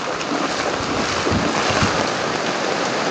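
Floodwater rushing down a swollen creek during a typhoon, a steady broadband roar of churning water mixed with wind buffeting, loud and continuous with no voices.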